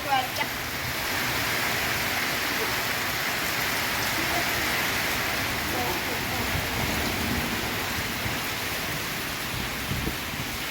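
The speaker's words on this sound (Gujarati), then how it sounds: "ફરી એક વાર જોરદાર વરસાદ" A heavy monsoon downpour of about 10 inches falls over farm fields, a steady, dense roar of rain that holds unbroken from start to finish, with a faint voice in the background.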